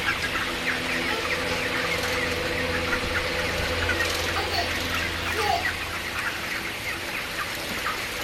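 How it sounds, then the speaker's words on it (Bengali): Chickens cluck and fuss close by under a steady rushing hiss of water sprayed over them in hot weather, running throughout. "আমি কিন্তু আমার মুরগিগুলোর উপরে পানি দিয়ে দিচ্ছি"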